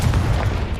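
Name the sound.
Confringo spell explosion in Hogwarts video game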